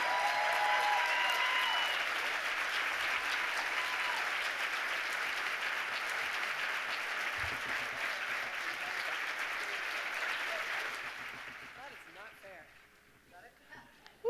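Sustained audience applause welcoming Kate Johnson, the 2024 Wise Woman of the Year, at an awards event, a full roomful of clapping that holds steady and then fades out, with a few cheers mixed in.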